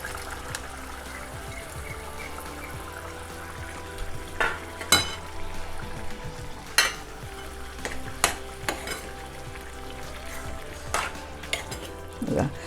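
Boiled potatoes and mash tipped into a pan of Konkani khubyanchi (clam) chutney and stirred, with scattered scrapes and clinks of a spoon against the pan over a low steady background.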